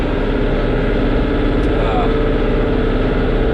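A tractor engine runs steadily out in a field being prepared for corn and pumpkins: a loud, constant mid-pitched drone that fills the whole stretch without any change.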